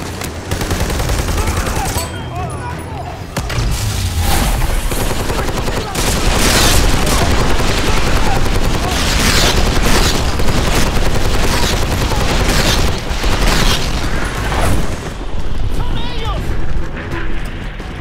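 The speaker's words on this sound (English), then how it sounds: "the barrage of fire destroying the world all around you" Relentless barrage of gunfire and explosions in Army of Two: The Devil's Cartel, loud overlapping automatic bursts and booms filling the whole stretch while someone talks over the battle.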